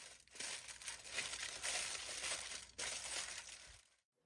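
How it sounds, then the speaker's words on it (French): Baking paper and then aluminium foil are pressed over a pot of pepper rice to seal in the steam, giving continuous close crinkling and crumpling for about four seconds before the sound stops abruptly. "Couvrez avec du papier cuisson puis avec du papier aluminium pour bien faire tenir le tout."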